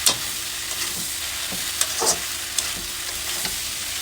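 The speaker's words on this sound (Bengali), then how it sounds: "এই যে এখন পাস্তাগুলো দিয়ে দিলাম। পাস্তাগুলো দিয়ে ভালো মতো মিশিয়ে নেবো।" Pasta with tomatoes, peas and potatoes is stirred in a pan over a continuous sizzle, with a few soft scraping knocks of the spoon at irregular intervals, up close with no voices.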